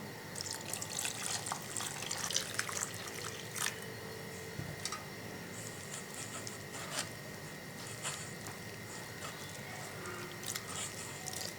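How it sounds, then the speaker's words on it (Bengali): Chopped white gourd rinsed under clean running water in a kitchen, with a steady faint trickle and occasional splashes and clatters, quiet and close. "এখন আমি চাল কুমড়োটা পরিষ্কার জল দিয়ে ধুয়ে নেব।"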